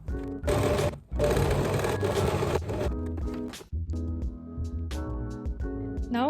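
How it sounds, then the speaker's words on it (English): A sewing machine top stitches the seam allowance of an oversized 80s style vest from the right side near the shoulder seam, running in loud close bursts separated by short pauses, with a softer stretch of slower stitching toward the end. "I'm going to top stitch the seam allowance from the right side"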